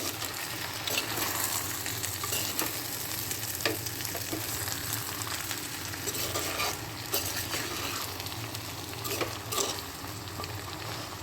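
Pork and raw plantain curry stirred in a clay pot, with a steady close sizzle and soft scraping strokes of the spoon running unbroken throughout, no voices.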